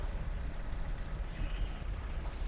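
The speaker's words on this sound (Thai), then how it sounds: "เสียงเครื่องเดินนิ่งมากนะครับ" A 2022 Toyota Yaris 1.2 engine idles steadily and evenly, a low continuous rumble with a faint high whine, no voices over it.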